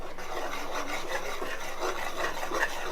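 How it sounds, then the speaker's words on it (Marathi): Flour is stirred into boiling water in a pot over a wood-fired stove, a close, continuous scraping and rubbing rhythm of spoon against the pot. "पीठ आपल्याला घालत असताना एकसारखं दुसऱ्या हाताने हलवत राहायचं आहे"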